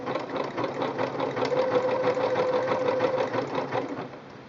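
A Singer Quantum Stylist 9960 sewing machine runs a wide zigzag stitch in a fast, steady rhythmic whir for a few seconds before slowing to a stop.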